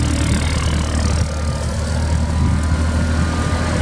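Clark GCS15 3,000 lb cushion tire forklift with its engine running steadily nearby, a continuous low rumbling idle that holds even throughout.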